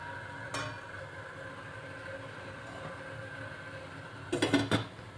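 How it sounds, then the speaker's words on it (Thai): Egg dishes for a Thai steamed egg custard with fresh milk are set into a steamer pot, giving a short clink early on and a quick cluster of knocks and rattles near the end over a low steady hum. "จากนั้นก็นำไข่ตั้งในหม้อนึ่งได้เลยค่ะ"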